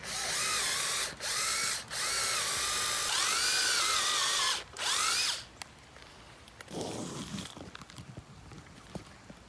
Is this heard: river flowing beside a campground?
no